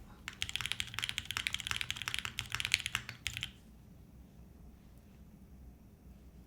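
Typing on a Suisei-themed mechanical keyboard with Cherry switches: a quick, close run of clacky keystrokes for about three seconds, then it stops and only quiet room noise is left.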